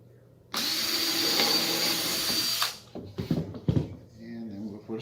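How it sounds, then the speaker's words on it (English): A power drill whirs loudly for about two seconds while pre-drilling a hole in a wooden picnic table board, then stops, followed by a few knocks and handling sounds as the speaker talks briefly. "I'll pre-drill this one also."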